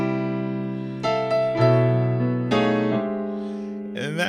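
A piano plays a tritone chord shape that slides up and down the keyboard, with several sustained chords struck one after another and ringing alone, ending with a quick rolled figure.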